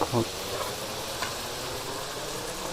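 Rice is tipped into a biryani pot and stirred, giving a steady scraping, sizzling fry that runs continuously at close range after a brief louder clatter at the start.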